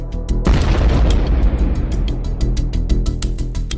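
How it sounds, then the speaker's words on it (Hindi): A small shuttlecock grenade explodes on top of a tank, a loud, rumbling blast that lingers, with crackling pops and a steady rhythmic pulse running underneath. "छोटा ग्रेनेड छोटा धमाका करता है"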